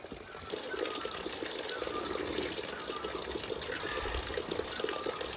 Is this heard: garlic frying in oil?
no